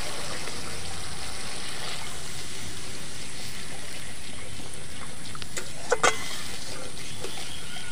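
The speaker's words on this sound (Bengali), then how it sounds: "আমি এবারে মশলা ধোয়া জল দিয়ে দেব" Spice-rinsing water pours into frying spice paste for a Joan Katla fish curry, giving a steady close sizzling hiss throughout with a couple of small clatters near the end.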